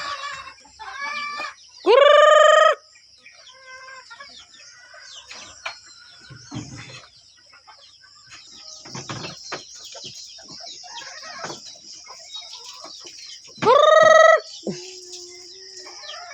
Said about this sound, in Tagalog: manok boy.